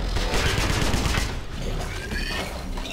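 Rapid close gunfire bursts in the Wolfenstein shooter game while a Nazi soldier is shot, dense and loud through the first half, then thinning into scattered shots.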